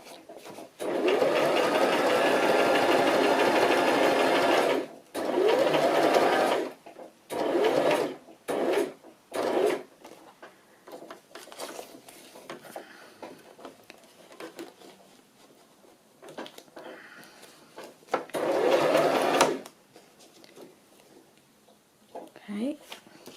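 A sewing machine stitches fabric scraps in several loud, rapid bursts of whirring, separated by pauses with handling sounds and brief speech.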